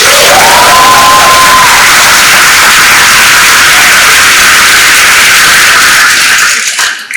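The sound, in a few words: audience applause and cheering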